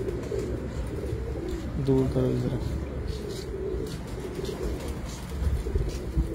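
Breeder pigeons coo in low throaty phrases, most clearly in one short burst early on, under ongoing speech and steady background noise.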